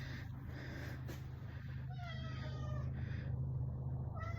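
Pet cat named Meow Meow coming downstairs at home gives a few short meows over a steady low hum, fairly close but not loud.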